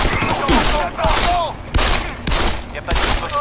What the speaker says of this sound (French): C'était des coups de feu.